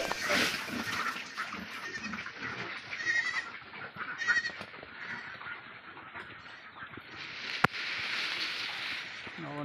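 Goats on a farm bleat and jostle while being fed, a busy cluster of animal calls over constant shuffling and munching nearby, with pigs also present and a voice speaking briefly.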